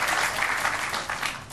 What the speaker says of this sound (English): well deserving of applause